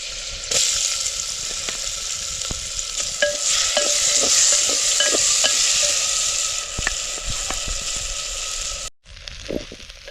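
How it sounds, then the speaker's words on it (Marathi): Rice sizzles loudly in hot spiced tempering oil while a spoon scrapes and stirs it in quick repeated strokes, close up, ending with a brief cut. "फोडणीमध्ये तांदूळ आता 2-3 मिनटं चांगला परतून घेतला"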